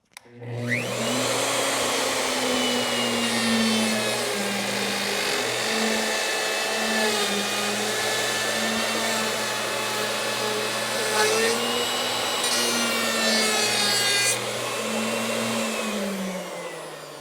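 A dado cutter on a saw cuts a groove into wood, a steady loud whining roar that runs continuously for most of the clip before trailing off at the end.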